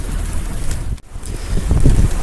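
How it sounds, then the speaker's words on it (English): Strong wind on a beach in Cape Town buffets the microphone in a steady low roar, with gusts rising and falling and a brief lull near the middle. "As is the way in Cape Town, it is very windy today."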